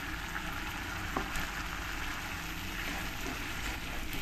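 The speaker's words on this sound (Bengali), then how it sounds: "এবার এই পেস্টটাই এর মধ্যে দিয়ে দেব।" A poppy seed and peanut paste fries with ridge gourd in hot oil, making a loud, steady, even sizzle from start to finish.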